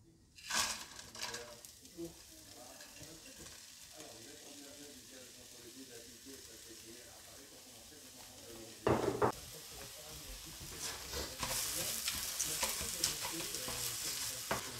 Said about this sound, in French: On va laisser revenir comme ça dans de l'huile d'olive.